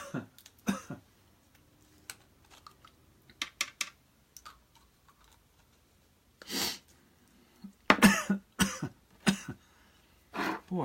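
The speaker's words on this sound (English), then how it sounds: "I haven't coughed hardly at all" Several short coughs and throat-clearing bursts break an otherwise quiet indoor stretch while someone mixes ink in a palette for an art lesson, with soft handling taps in between.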